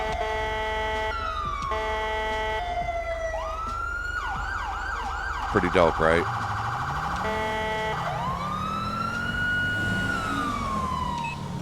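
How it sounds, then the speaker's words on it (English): A police car siren in the LSPDFR mod for the video game cycles through wailing, yelping and warbling tones with brief horn-like blasts, loud and continuous, while someone talks over it. "So there's our siren."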